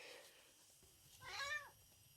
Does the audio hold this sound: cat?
yes